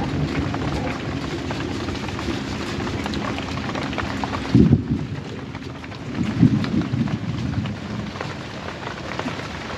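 Heavy rain pours steadily in a Vietnamese flood season, a dense close hiss with low rumbling bursts that sound like thunder partway through.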